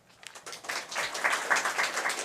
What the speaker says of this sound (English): they deserve a round of applause for all that they have done